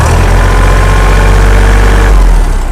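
A used Kubota L3008 tractor's diesel engine runs at a steady idle, loud and close, with a constant low rumble and vibration throughout.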